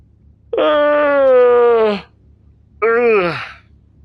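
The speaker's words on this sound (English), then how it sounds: "Oh crap, I got another yawn coming." Two drawn-out human yawns, the first long and steady, the second shorter and falling in pitch, voiced with a groaning, moaning quality, close and loud with silence between.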